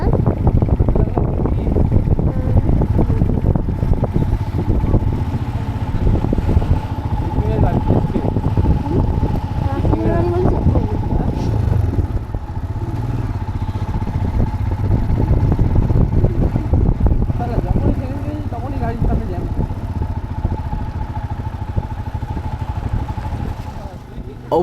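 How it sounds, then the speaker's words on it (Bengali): A Royal Enfield Himalayan motorcycle riding a mountain road, its engine droning steadily and loudly throughout with heavy wind buffeting the microphone and a rider talking over it. "প্রথমবার হিমালয়ান চালাচ্ছি, তাও আর পাহাড়ে"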